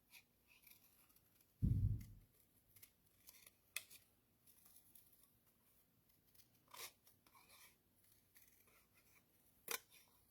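Scissors cut paper for an art journal: one loud, close snip early on, then quieter scattered snips and paper rustles in a quiet room.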